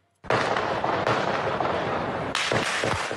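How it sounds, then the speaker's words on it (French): Heavy gunfire during a terrorist attack in central Vienna at night, a dense crackling burst of shots starting abruptly and continuing, with a fresh volley near the end, loud and reverberant between buildings. "Des tirs nourris en plein centre-ville de Vienne."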